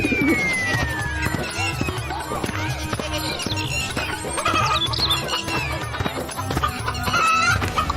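Two big hens bought from a market cluck steadily against a busy, layered background of farmyard and household noise, with a voice faintly mixed underneath.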